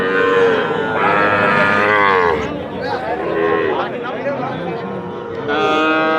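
A Nepali Gir crossbred heifer at a cattle market in Bagerhat gives loud, drawn-out moos close by, heard over crowd chatter and nearby voices.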